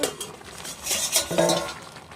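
A cooking pot lid lifts off a pot of simmering leafy greens curry, giving a brief metallic clink and clatter in the middle, close and moderately loud, with faint kitchen background and no talking.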